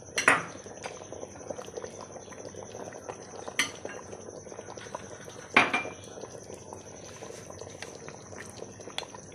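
Cornflour and water are stirred together in a bowl, with a spoon clinking against the sides at a few sharp moments over a quiet kitchen background.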